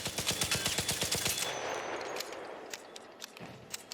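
Rattler rifle in the ARC Raiders video game fires a rapid burst of about fourteen close, loud shots in steady rhythm, then the echoing tail fades into scattered faint clicks and ambient noise.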